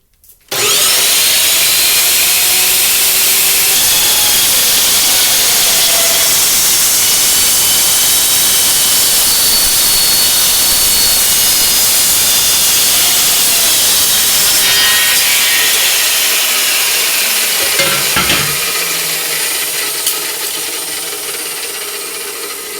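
A loud power chop saw cuts through wood in one long, steady, high-pitched whine lasting about twenty seconds, near and alone, slowly tapering as the blade finishes the cut.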